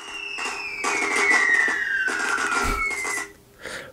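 Movie explosion from Home Alone 3 with a long descending whistling screech and crackling bursts over about three seconds, ending in a brief low thump and a fading tail, loud and close.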